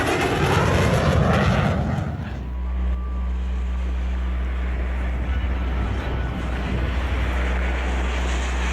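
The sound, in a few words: airplane engine on a runway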